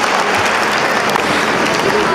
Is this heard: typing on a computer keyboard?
no